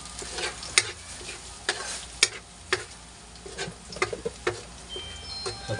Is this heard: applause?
no